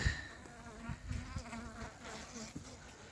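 Honeybees in autumn buzz softly near a beehive, with faint wing hums and scattered close fly-bys over a quiet outdoor background.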